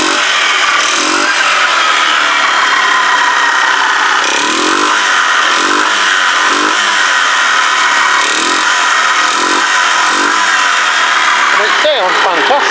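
A Kymco Agility 125 scooter with a freshly serviced carburettor and valves, though still smoking, runs loud and close, its steady engine drone swelling in repeated short revs. A voice talks over the running engine.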